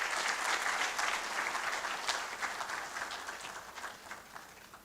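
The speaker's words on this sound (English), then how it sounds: "As she takes her seat, please let's continue to applaud her." Audience applause at a university's tenth anniversary research conference opening ceremony, dense sustained clapping that gradually tapers off over a few seconds.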